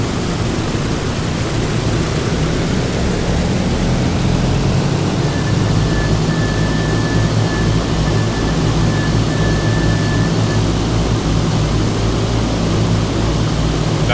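Steady loud drone of a PMDG DC-6B propeller airliner taxiing in a flight simulator, a constant broadband engine roar with a faint tone rising partway through, no talking.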